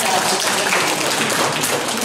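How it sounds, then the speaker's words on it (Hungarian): A school audience of children applauds in a Hetyen primary school, a dense, steady patter of many hands clapping at close range that fills the whole moment without pause. "Óriási tapsot"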